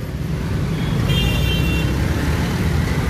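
Steady roadway traffic jam in Ujjain, a dense rumble of cars, autos and engines close by, with a brief horn toot partway through; no voices.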